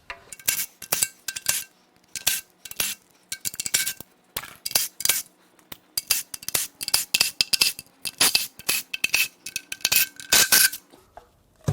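Sharp metallic clinks and rattles of tools and bolts come from taking the lower oil pan off a Toyota 2JZ engine of unknown condition, in irregular busy bursts close to the work, with no talking.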